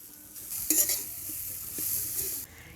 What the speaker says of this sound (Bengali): কড়াতে নারকেল কুচি দিয়ে দিচ্ছি